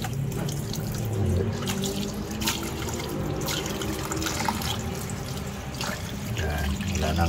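Water spinach (kangkong) being rinsed under a running kitchen tap, with a steady splashing stream of water and faint handling of the leaves, close and continuous.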